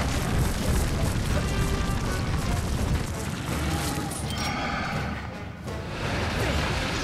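Bomb blast in The Legend of Zelda: Skyward Sword, a loud booming rumble filling the scene with crashing debris, continuous and heavy, followed by lighter rattling.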